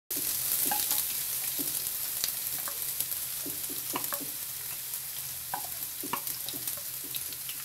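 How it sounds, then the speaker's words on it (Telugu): Chopped onions and green chillies frying in hot oil, a steady close hiss with scattered crackles and light spatula taps against the pan, no voices. "తరిగిన ఉల్లిపాయ ముక్కలు ఇంకా పచ్చిమిరపకాయ ముక్కలను ఇందులో వేయించుకోవాలి"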